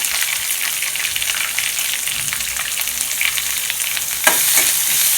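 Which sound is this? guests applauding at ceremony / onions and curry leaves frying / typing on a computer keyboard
onions and curry leaves frying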